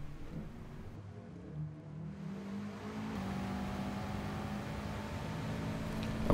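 Subaru WRX engine in Gran Turismo Sport on the wet Red Bull Ring short track, a steady engine drone building as it accelerates, mixed with rain-like hiss throughout.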